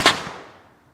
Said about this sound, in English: Cannon set up to be at 60 PSI. Firing in 3, 2, 1, go.